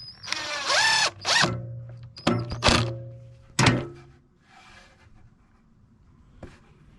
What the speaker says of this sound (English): here I'm running a screw through that feathered point there